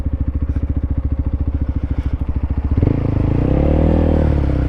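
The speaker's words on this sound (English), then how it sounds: "It's got a little genteel tick over." A Honda CB125 motorcycle engine idles with a steady, rapid thumping tick, close up, then a throttle blip raises it to a smoother hum.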